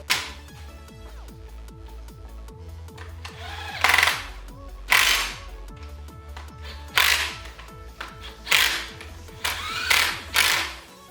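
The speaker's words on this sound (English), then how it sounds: "he's gonna go through and put all the bolts on" Ratchet tightening bolts on a Datsun L28 engine during a 280Z build, heard as rapid repeated mechanical clicking in bursts with several loud, sharp tool strikes spread through the clip, close up.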